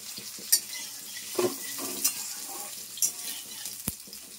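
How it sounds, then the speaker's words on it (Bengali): Potatoes frying in a pan over lowered heat, a soft steady sizzle with intermittent spatula taps and stirring clinks, fairly quiet and close, with no talking. "আলুগুলো আমি 2-3 মিনিট একটু গ্যাস কমিয়ে ভেজে নেব"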